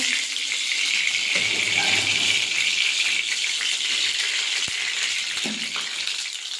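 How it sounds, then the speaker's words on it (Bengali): Pea-filled kachori deep-frying in white oil in a kadai gives a continuous, close, even sizzle with faint crackles throughout, and no talk over it. "এবার আমি এটা কচুরির তেলে ছেঁকে নেব।"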